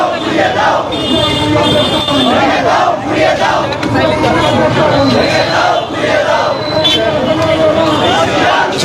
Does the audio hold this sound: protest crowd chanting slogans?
yes